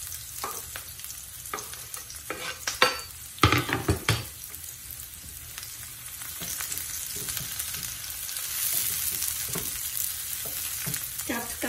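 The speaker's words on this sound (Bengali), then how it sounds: "তাই এখনই আমি রসুন এবং মরিচটা দিয়ে দিলাম" Garlic and chili frying with onion in a pan, a steady close sizzle with spatula stirring and scraping clatters, louder bursts of crackle early on, no talking.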